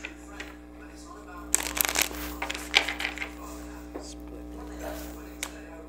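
A deck of goddesses, gods and guardians oracle cards is shuffled by hand, giving soft riffling and flicking bursts over a steady low room hum.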